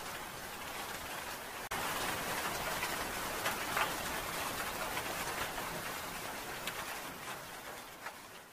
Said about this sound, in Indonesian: Inilah yang tidak aku sukai darimu,